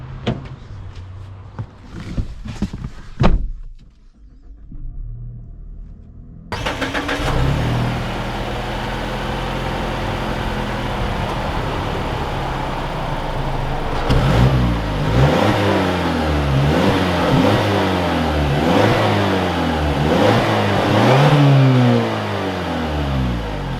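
The turbocharged engine of a 2021 Mazda CX-30 Turbo Premium Plus pulls away after a few clicks and thumps, then climbs steadily with repeated rising sweeps as it works through the gears, loud and close with no talking.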